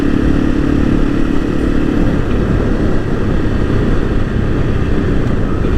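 A motorcycle rides a gravel road in an Oregon wasteland, its engine a loud, steady drone mixed with rough crunching and wind rush that runs unbroken from start to finish.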